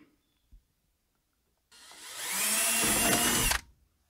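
A power drill countersinks a screw hole in a 3D printed part for a 1984 Dodge Ram D150 truck, one loud close burst of roughly two seconds that whines and grinds steadily, then stops abruptly after a short quiet lead-in.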